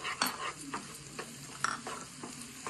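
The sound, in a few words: chicken with chili powder and salt stirred and fried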